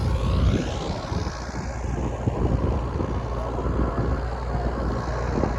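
A New Holland 5500 tractor engine drones steadily and loudly throughout while pulling a super seeder, with rumbling machinery noise and no talking.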